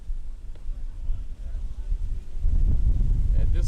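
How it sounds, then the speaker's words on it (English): A gust of wind buffets the microphone at an outdoor baseball game, rumbling low and growing stronger toward the end, with a voice talking faintly over it. "this gust we're feeling right now is probably exactly what hit that ball out in center field"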